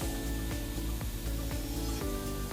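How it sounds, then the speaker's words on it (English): Compressor-driven spray gun at about 25 PSI spraying paint onto rock castings, a steady close airy hiss over a low mechanical hum with faint periodic clicks, no talking. "It's not quick. And it's sure not spraying as fast as the spray can did."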